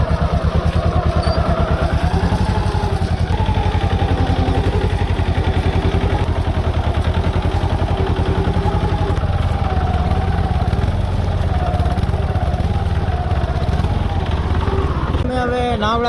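A tractor engine runs steadily and close by while the tractor is being driven, a continuous rhythmic chugging drone that lasts the whole time with no clear break.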